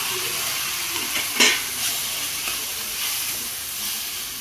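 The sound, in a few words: chopped tomatoes sautéing and being stirred in a pan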